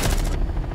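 Gunfire in Rainbow Six Siege comes as a quick burst of several sharp shots that stops abruptly in under half a second, with a faint tail after it.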